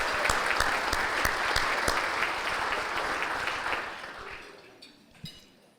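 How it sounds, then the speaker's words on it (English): A luncheon audience gives a sustained round of applause, steady dense clapping from a roomful of people at moderate distance that thins out and fades near the end. "Let's give a round of applause to all of these."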